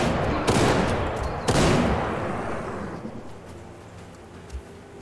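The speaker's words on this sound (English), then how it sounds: "The Mossberg is a 4-shooter. Mossberg seems to be needing 4 shots." Two loud, close shotgun blasts from a Mossberg in a first-person shooter game, about a second apart, each with a sharp burst trailing into a rumbling echo, followed by quieter low thuds.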